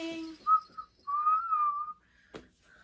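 A person whistles a short, clear melody of a few rising and falling notes, followed by a sharp click and a brief final whistle.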